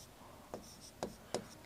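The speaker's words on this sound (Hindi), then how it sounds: "ये की जगह लिथियम लिखते हैं ना" Chalk or marker writing on a board in a chemistry lesson, three short scratchy strokes spaced apart, faint against quiet room tone.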